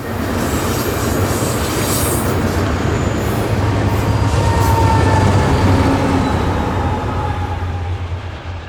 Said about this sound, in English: They're keeping up with track speed through here, as a helper set consisting of two C40-8Ws shoves on the rear.